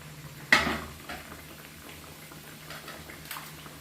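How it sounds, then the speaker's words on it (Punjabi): Pieces of dough for churma fry slowly in hot fat with a faint, soft bubbling and crackle. A sharp clink near the start sounds from the pan. "ਇਹਨਾਂ ਹੌਲੀ ਹੌਲੀ ਫਰਾਈ ਹੋ ਜਾਣੀਆਂ ਆ"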